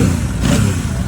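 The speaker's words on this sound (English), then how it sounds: "For those audiophiles who are always interested in knowing what a bike sounds like, here you go." Royal Enfield Super Meteor 650 motorcycle engine running steadily with a deep, throbbing low rumble, loud and close, with no voices over it.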